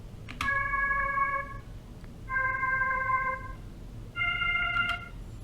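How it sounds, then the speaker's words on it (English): Three sustained synthesized chords, each held about a second with short gaps, clean and dry with no reverb. "So the pad with no effects on sounds like this"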